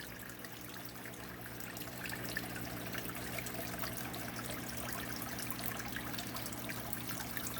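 Soft continuous trickle of an aquarium waterfall over a low steady hum, even and unbroken throughout, faint and close.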